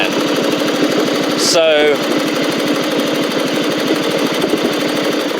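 Craftsman LT1000 riding mower engine running steadily at close range with a rough, pulsing drone, a brief voice cutting in near the start.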